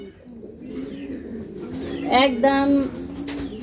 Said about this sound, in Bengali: একদম সুপার কোয়ালিটি কবুতর।